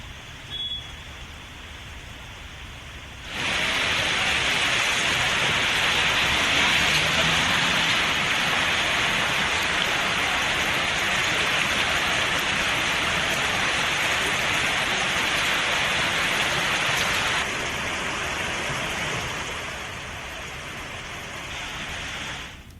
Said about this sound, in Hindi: बीती रात जमकर बारिश हुई